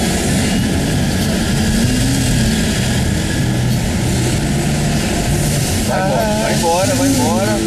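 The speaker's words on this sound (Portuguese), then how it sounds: "Rinaldo, soca o pau nessa porra desse acelerador direito" A car engine revs hard at full throttle while driving through city streets, a loud, steady roaring drone that rises and falls in pitch, with voices talking over it.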